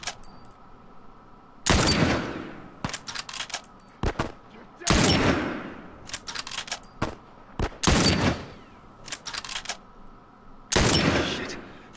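Bursts of gunfire in The Last of Us Remastered ring out loud and sharp, several separate volleys with crackling decay and quieter gaps between them, no speech over the shots.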